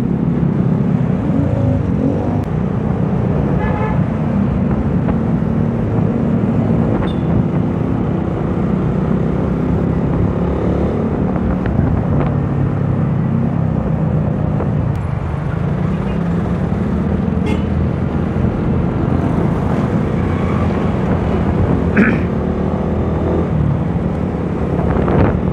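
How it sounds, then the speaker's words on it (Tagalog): Steady road noise from a Raider 150 carb motorcycle riding through heavy traffic in Valenzuela, with a continuous low engine drone and wind rush from start to finish and no talking. "grabe pa rin traffic dito."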